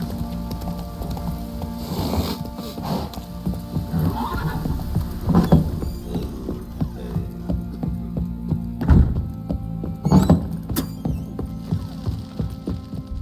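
A horse in Witcher 3 whinnies and snorts amid rain and a low ambient hum, with a few hoof clops and sharp neighs standing out in separate bursts over the steady game backdrop.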